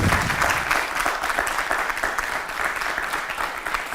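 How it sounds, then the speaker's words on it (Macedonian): Studio audience applause on a Macedonian talk show, a dense, steady patter of many hands clapping at close range for the full stretch, with no talking over it. "Секоја чест, тоа заслужува голем аплауз."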